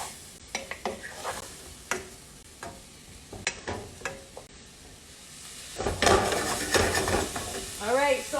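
Cooked rice dumped into a frying pan and stirred, giving scraping utensil strokes and clatter against the pan, then a burst of sizzling as it hits the hot surface, with a brief voice at one point.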